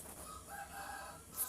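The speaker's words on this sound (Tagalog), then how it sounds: "Tumitilaok na po yung mga manok." Roosters crow faintly in the distance, a couple of drawn-out calls rising over a quiet room background.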